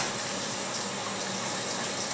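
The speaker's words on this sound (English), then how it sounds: "you're going to be able to see the machine come down and do our hole. Kind of tough to see with all the coolant" A milling machine cuts a hole by circular interpolation under a flood of coolant, producing a steady, dense rushing spray of liquid with no break in the sound and no voices.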